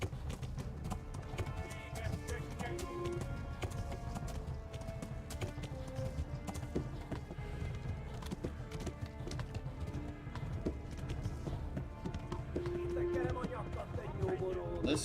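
Rapid hoofbeats of galloping horses in the video game Kingdom Come: Deliverance 2 clatter steadily throughout, mixed with game music and background commotion, with an occasional whinny.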